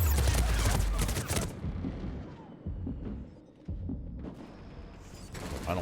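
Turret fire in Mass Effect 3 opens with a loud, heavy volley of rapid shots, then gives way to quieter, scattered bursts and booms further off.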